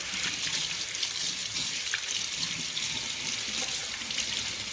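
Tap water running steadily into a sink while a large blue crab is rinsed, a constant close splashing hiss with faint clatter underneath.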